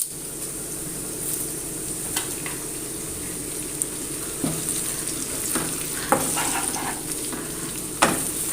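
Curry leaves crackle and sizzle in hot oil for mango pickle, a steady frying hiss broken by occasional sharp pops and spoon clinks.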